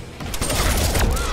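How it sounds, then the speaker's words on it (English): A short, loud burst of rapid gunfire from a Mortal Kombat X fight, a tight volley of shots lasting about a second, close and punchy with game effects around it. "You wanna shoot? I can shoot too."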